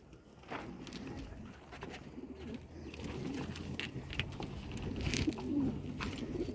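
Pigeons in a loft, among them speckled males, coo softly and repeatedly over a steady low rustle, with faint distant chirps scattered through.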